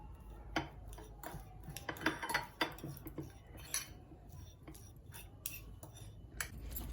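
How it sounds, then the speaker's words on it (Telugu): Boiled eggs are crushed and smashed in a bowl, giving quiet, irregular taps and clinks of a utensil against the bowl, scattered across the stretch at a low level. "చూసిండ్రా ఇలా మొత్తం చేసుకున్నా, క్రష్ చేసుకున్నా, స్మాష్ చేసుకున్నా."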